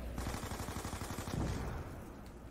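An MP5 submachine gun fires a rapid, evenly spaced burst of shots in Black Ops 2, loud and close for about two seconds before trailing off into a rumbling tail.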